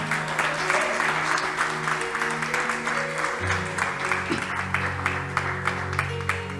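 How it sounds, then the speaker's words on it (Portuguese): Congregation applauding during a Sunday evening church service, dense continuous clapping over sustained organ or keyboard tones, with voices mixed in. "Aplauda ao Senhor Jesus."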